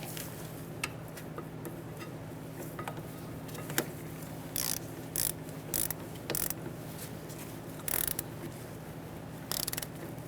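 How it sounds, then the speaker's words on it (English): Ratchet with a 12mm socket tightening a new rear brake caliper on a 2014-2018 Subaru Forester, heard as short bursts of rapid pawl clicking between pauses over a low steady hum. "You're going to use a 12mm socket to tighten it down."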